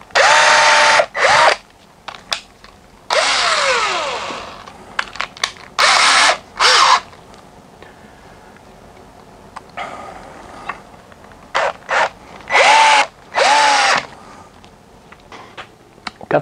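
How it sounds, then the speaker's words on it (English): A power drill whirs in repeated short bursts of a few seconds each, drilling pilot holes in a cherry wood bowl blank, loud and close, with quiet gaps and faint handling clatter between them. "So I am going to drill a few"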